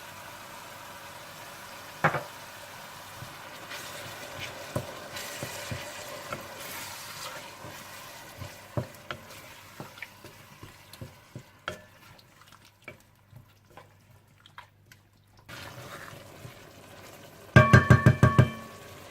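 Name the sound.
masala with turmeric, salt, chicken cube and yogurt being cooked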